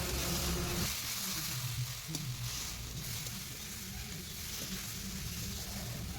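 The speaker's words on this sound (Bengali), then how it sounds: "এবার সর্ষে বাটা ও হলুদ গুঁড়ো একসঙ্গে সবজির সঙ্গে মিশিয়ে আবারও 1 থেকে 2 মিনিট" Bitter gourd, vegetables and small fish sizzle steadily in a pan as mustard paste and turmeric are stirred in, a continuous close broadband frying hiss with faint scraping, no talk.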